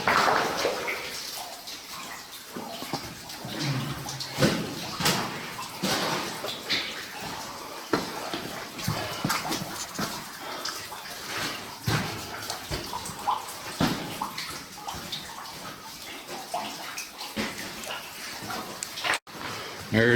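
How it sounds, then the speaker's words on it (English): Water flows and splashes steadily inside an old abandoned copper mine, a continuous rushing wash with occasional drips. People talk over it throughout, their voices echoing in the tunnel. "There's water coming in, so it must be going out."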